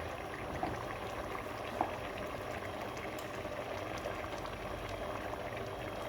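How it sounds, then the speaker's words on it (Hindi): Oil being added to black chickpeas whose water has fully dried in a hot cooking pan, giving a steady, moderately loud sizzling and bubbling hiss that runs throughout with a couple of small sharp pops and no talk. "हम इसमें ऑयल ऐड करेंगे।"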